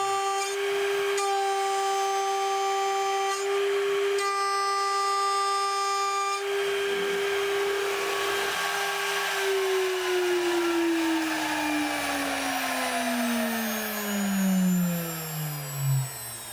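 A DMC2 CNC mill cuts aluminum with a 10mm insert tool, producing a loud, sustained whine that pauses briefly several times. Later the tone slides steadily lower as the spindle slows, with a rising hiss underneath and no talking.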